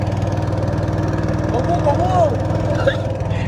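Boat engine running steadily on a river, a low throbbing motor drone that stays constant throughout, with someone talking over it.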